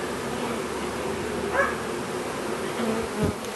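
Honey bees from a package being hived, a steady close buzzing drone of many insects throughout, with brief louder swells as individual bees fly near.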